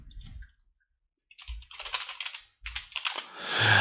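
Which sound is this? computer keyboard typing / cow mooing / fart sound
computer keyboard typing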